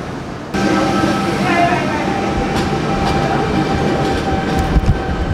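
A commuter train in Sydney, Australia rumbles along loudly after a sudden start, its steady roar and wheel noise continuing with occasional clacks.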